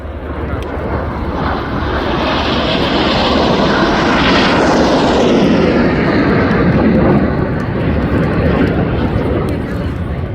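Red Arrows jets fly an air display at RIAT 2025, a loud, continuous jet roar swelling and sweeping past as the formation flies overhead, with a voice talking beneath it.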